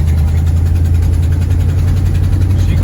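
An Edsel car engine runs steadily, loud and close, with a deep, even low-pitched rumble and constant vibration throughout, no other sounds standing out.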